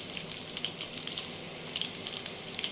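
Bitter gourd slices frying gently in oil over a low flame, a soft, continuous sizzle with small crackling pops, quiet and close, with no talking.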